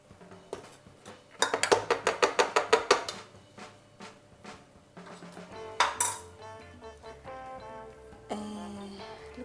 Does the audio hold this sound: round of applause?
no